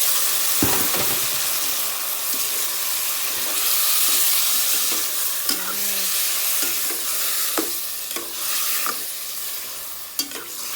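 Chicken pieces frying in a pan for a Filipino chicken curry make a loud, steady sizzle and hiss, broken by repeated scraping stirs and occasional sharp clatters.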